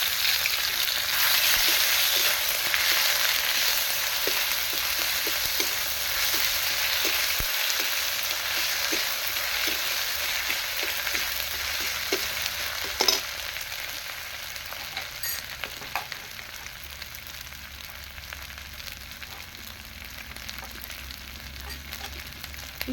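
Ginger-garlic paste fries in a pan, giving a loud, continuous sizzling hiss that gradually softens, with scattered clicks and scrapes of stirring close by, heard on its own.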